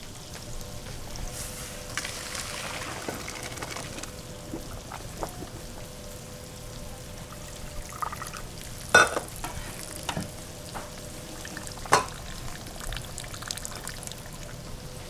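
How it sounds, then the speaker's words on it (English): Cooked rice is strained in a kitchen while water pours and trickles off, leaving a steady soft hiss with scattered clinks and a few sharper knocks against the strainer or pot. "So we're gonna strain this rice."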